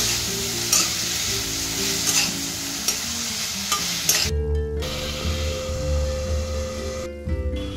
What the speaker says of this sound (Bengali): লবণ আর হলুদটাকে কিন্তু ভালো করে মিশিয়ে নিতে হবে সবজিগুলোর সাথে।